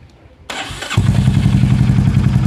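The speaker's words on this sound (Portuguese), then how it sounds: "eu vou dar partida na moto e vocês vão perceber que o som que vocês vão escutar é do escapamento na Meteor." A Royal Enfield Meteor motorcycle cranks briefly, then its engine catches and settles into a loud, close, steady idle, with the exhaust giving a low, even thump.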